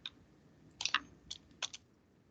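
A folder name is typed on a computer keyboard in a quiet room: a few soft, close key clicks in short irregular bursts, with no talking.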